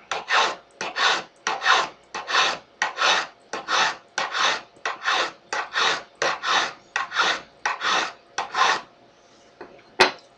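A coarse hand file rasping back and forth across a piece of amber being shaped for a silver jewelry mount, about seventeen close, steady strokes in a regular rhythm, ending with a sharp tap.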